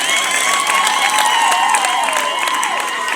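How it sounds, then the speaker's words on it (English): Crowd of schoolchildren and adults at a pupils' awards event clapping together, dense steady applause with some cheering voices mixed in, loud and close. "Let us clap our hands and give thanks to the Lord."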